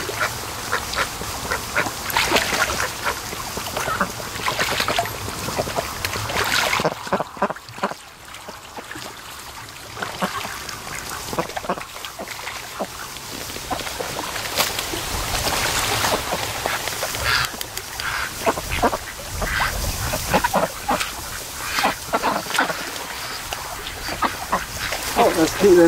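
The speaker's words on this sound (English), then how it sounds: "These guys are big ducks." Large ducks quack at a lakeside in the afternoon, calling repeatedly in short bursts close by, with a person talking intermittently over the birds and a faint trickle of water in the background.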